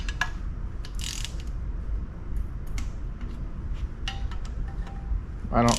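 Torque wrench tightening bolts on a 2000 Suburban 2500 engine, a few quick ratcheting clicks scattered through steady outdoor wind noise, ending with a sharper click burst up close.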